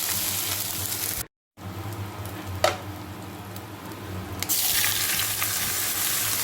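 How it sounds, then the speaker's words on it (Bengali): Whole spices, ginger paste and cumin seeds frying in hot oil in a pan, a steady close sizzle with a brief gap and a louder crackling burst near the end. "মশলাটা ভাজা ভাজা হয়ে গেছে"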